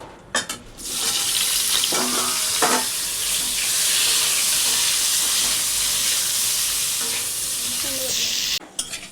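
Potato pieces hit hot oil tempered with spices and sizzle loudly and continuously, with brief clatters of stirring at the start and end.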